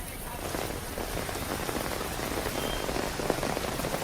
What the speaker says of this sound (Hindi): दिल्ली एनसीआर में पिछले 1 घंटे से झमाझम बारिश देखने को मिल रही है